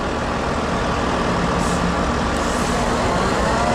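A concrete pump truck's engine idling up for outrigger operation at a ski mountain gondola site, a loud steady diesel rumble up close throughout the short stretch.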